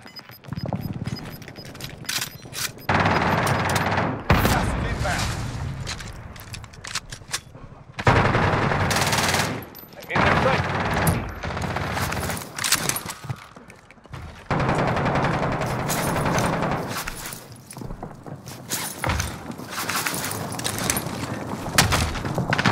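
Automatic gunfire in Call of Duty: Modern Warfare, repeated rapid machine-gun bursts separated by short pauses, loud and close, with occasional booms across a long stretch of combat.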